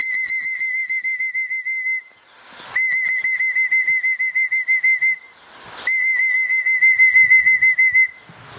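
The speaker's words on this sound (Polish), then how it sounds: "Bierzemy gwizdek, bo mnie opieprzy." A pigeon whistle is blown in three long, loud trilling bursts, each a warbling, rapidly pulsing shrill tone lasting a couple of seconds, separated by brief breathy pauses, calling racing pigeons during winter training flights in Kosakowo.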